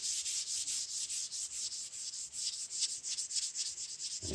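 Light sandpaper strokes on stained oak wood make a soft, rhythmic scratching, with back-and-forth rubs repeating several times a second and no voices.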